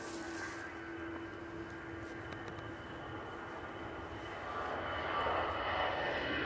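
Turkish Airlines plane arriving at an airport, a faint distant engine rumble and whine that swells slightly toward the end, with low background noise.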